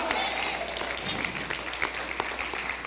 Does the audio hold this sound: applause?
yes